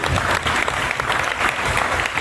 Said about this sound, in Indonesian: Tepuk tangan sukacita kita.